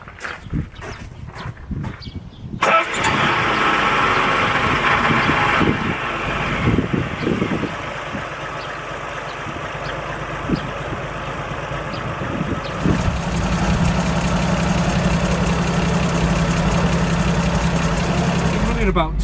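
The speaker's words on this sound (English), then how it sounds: "I'm just going to run the engine now for 10 minutes at idle" An older classic car engine runs at a steady idle after starting up about three seconds in, a close, continuous rumble with a brief surge in level partway through and some small knocks and movement nearby.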